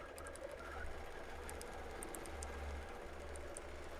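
A sewing machine runs steadily while stitching a straight line across a quilt, its quiet, even mechanical whir and light rattle continuing without pause, no talking.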